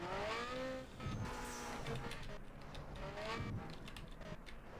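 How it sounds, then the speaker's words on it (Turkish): A racing car engine in the video game NFS Underground 2, a modified Skyline R34, revs hard, its pitch sweeping up and down through gear changes, with a brief tire squeal. The sound is loud and continuous, with no voices. "Arabanın sesi falan da 10 numara olmuş."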